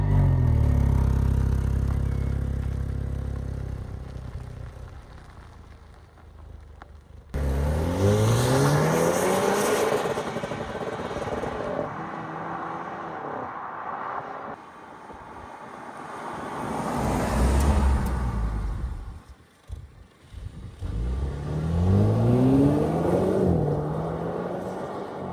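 A rebuilt Jaguar F-Type on a road test run, its engine revving hard through several gear-by-gear accelerations with rising pitch sweeps, loud and close, dropping between pulls before surging again.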